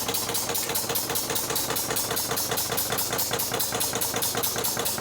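A small steam-powered generator spins steadily, its rapid rhythmic mechanical chugging and knocking running continuously at a loud, even level without pause.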